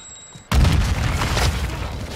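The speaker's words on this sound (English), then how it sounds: "Stun grenade out." Stun grenade detonating in Call of Duty: Modern Warfare II, a sudden loud booming blast after a brief quiet moment, followed by a sustained rumbling roar.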